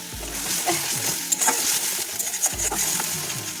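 Onion paste and cumin paste stir-fried in hot oil for a chorchori of potato, jackfruit seeds and stalks: a loud, close, continuous sizzle with repeated scraping strokes of the spatula.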